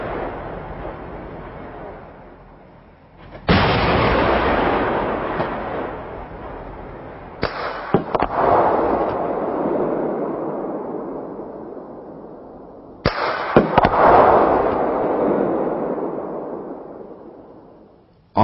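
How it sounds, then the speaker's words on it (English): CV90 40mm APFSDS rounds are fired at armor plate targets: three sharp, loud blasts, each followed by a long rolling roar that slowly decays outdoors. "The high effect of the 40mm APF-SDST projectile is shown in firings against two different armor plate targets."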